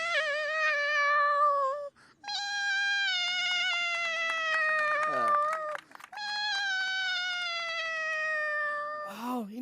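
A child mimics a crying cat with drawn-out, plaintive meows, three long wailing calls separated by short breaths, loud and close, alone without other voices.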